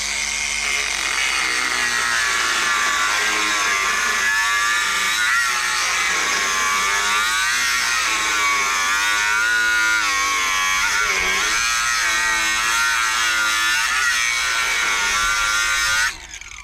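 A power tool cuts a slit in a rusted exhaust pipe on a Case tractor. It makes one loud, continuous, raspy grinding whine up close, steady for the whole stretch until it stops abruptly at the end.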